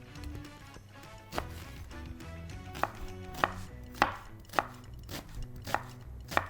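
A knife cuts an onion on a cutting board, a series of about eight sharp chops, spaced unevenly then speeding up slightly, close and clear over a faint kitchen hum, with no talking.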